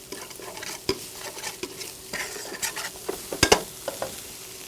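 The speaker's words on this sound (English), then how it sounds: "Now I'm going to fry my prosciutto that I got chopped up here." Chopped prosciutto crisping in oil in a pan, a steady low sizzle broken by intermittent stirring clicks and scrapes, fairly close with no talking.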